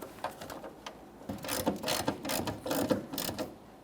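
Mounting bolts being snugged into plastic rear bumper brackets on a 2014-2019 Toyota Corolla, a close series of quick ratcheting clicks in short bursts, fairly quiet with no talking.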